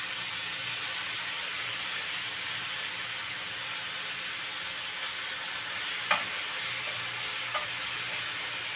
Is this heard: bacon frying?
yes